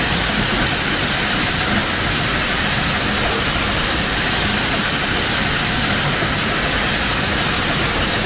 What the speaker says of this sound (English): Where's that steam coming from?